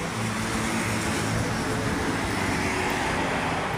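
Traffic on a highway behind a building rushes in a steady broadband roar of passing cars and heavier vehicles. It runs continuous and fairly loud, with no voices.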